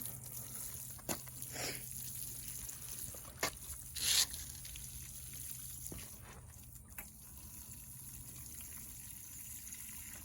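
Water gushes and splashes onto soil over freshly planted seed potatoes in a recycling bin, a steady pour with a few louder bursts and brief knocks, fairly close and without speech.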